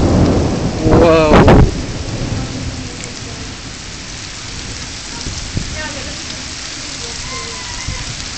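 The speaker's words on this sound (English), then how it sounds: "This is like only a few minutes worth of rain." Heavy rain pours steadily throughout, with a loud burst of thunder or hail clatter near the start that fades back into the constant downpour.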